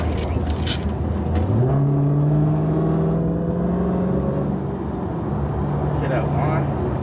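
A 2021 widebody Dodge Charger Hellcat accelerates from inside the cabin, its engine and supercharger whine climbing steadily in pitch and holding loud, with people talking over it.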